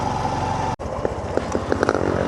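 Motorcycle engine on a ride through Vidhyanagar township at JSW Steel Vijaynagar, a steady close drone with a sudden momentary dropout, followed by light rattling clicks over the running engine.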